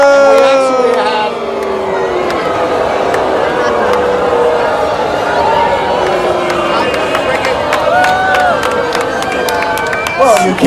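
A large crowd at a hunt event cheers and claps loudly and continuously, with voices and babble mixed into a dense, sustained roar.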